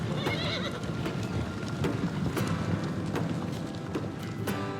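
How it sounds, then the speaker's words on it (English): Wild horses neighing with a clip-clop of running hooves, whinnies rising over a steady rumble of hoofbeats and wind at moderate distance. "When wild horses run, the very earth resonates with this movement."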